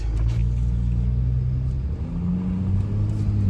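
A 2022 Ford Raptor pickup truck pulls away, its engine a low steady rumble with gear-shifting pitch steps as it accelerates, close and continuous with no talk over it.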